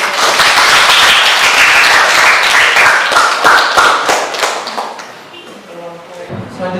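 A classroom audience claps steadily for several seconds after a group presentation, dense and close, then the applause fades out as a voice begins speaking.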